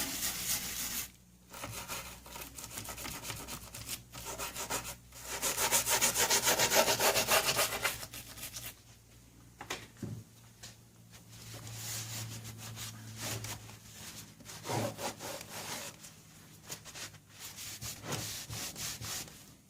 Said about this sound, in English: let's take this little detail brush in a circular-like motion